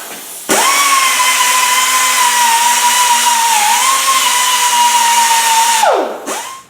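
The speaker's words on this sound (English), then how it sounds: "Now I'm going to go ahead and grind all the protective gooky coating off of here." An angle grinder strips a gooey protective coating off a metal pipe in a steady, loud whine that holds nearly unchanged for about five seconds, dips briefly, then spins down sharply at the end.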